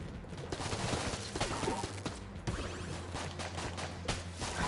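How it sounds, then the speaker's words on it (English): Rapid gunfire from a bouncing-bullet gun in Enter the Gungeon, dense repeated shots crackling over a low game music drone, loud and continuous without pause. "These bullets just fly off the wall there. You can be pretty reckless with this gun, I think."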